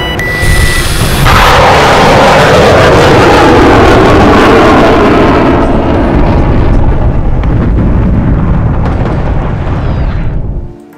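A loud, sustained explosion roars through a simulated transport aircraft being shot down in an Igla MANPADS training simulator, the blast and rumble slowly fading away over several seconds.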